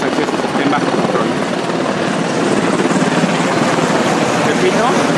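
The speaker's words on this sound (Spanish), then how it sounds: "Los helicópteros continúan sobrevolando para supervisar que los accesos estén bajo control." Helicopters fly overhead during a police clearing of a city plaza, giving a steady, loud rotor wash and engine roar that continues without a break for the whole stretch, with voices faintly audible underneath.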